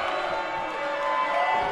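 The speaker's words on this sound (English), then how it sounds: "this crowd are riled up here tonight" Wrestling crowd at a live brawl show cheering and shouting in a steady, loud roar of many voices filling the hall without a break.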